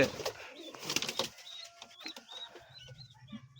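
Pigeons kept for sale coo softly in repeated short notes, with some rustling and wing movement early on, fairly quiet and close.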